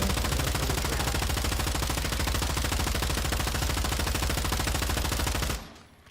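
Light machine gun fire from Modern Warfare 2 pours out in one loud, unbroken burst of rapid, evenly spaced shots for about five and a half seconds, then cuts off abruptly into a brief fading tail.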